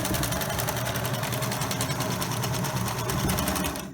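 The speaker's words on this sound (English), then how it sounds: "I'm using the widest setting for zigzag, and I'm using 12 to 14 stitches per inch." A sewing machine runs a continuous zigzag stitch at its widest setting, 12 to 14 stitches per inch, sewing a medical-surgical face mask; a steady close mechanical whir with rapid rhythmic needle clatter throughout, no talk.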